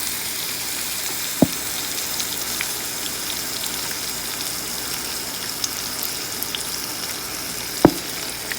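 Minced garlic and honey sizzle in a pan with a steady, close frying hiss and soft bubbling, punctuated by two sharp utensil knocks.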